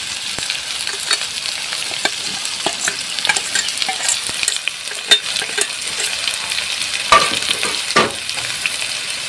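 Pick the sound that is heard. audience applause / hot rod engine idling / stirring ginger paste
stirring ginger paste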